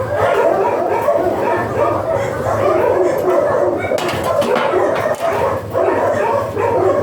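A dog barks and yips repeatedly nearby, with some whimpering, over steady background noise and occasional voices.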